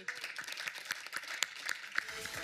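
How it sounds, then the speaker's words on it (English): Scattered, fairly faint clapping from an audience at an immersive-technology awards ceremony, with sharp individual claps standing out over a thin, continuous patter. "a big round of applause for all the winners tonight"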